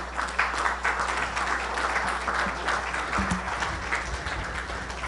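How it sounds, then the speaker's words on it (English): Steady, dense audience applause fills the hall at a 2019 JFK assassination conference in Dallas, continuous and even throughout over a low background hum. "give me another round of applause for Vince Palamara"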